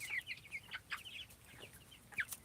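Broiler chickens kept in a pen cluck softly in short, scattered calls, with several birds making brief chirping notes over a quiet background.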